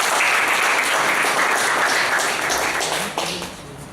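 An audience at a Toastmasters meeting breaks into loud, close applause, many hands clapping in a dense wash that fades slightly near the end as it winds down.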